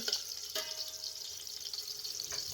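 Chopped onion hisses and sizzles in hot basmati ghee in a pot, a close, continuous crackling fry with a few brief clinks and stirring bumps.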